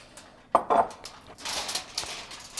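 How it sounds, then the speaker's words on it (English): Metal spoons and kitchen utensils clatter as they are shifted on a counter while fudge is made, with a sharp clank followed by scraping and clinking, close and fairly loud. "I'm going to move the spoons and instruments over here"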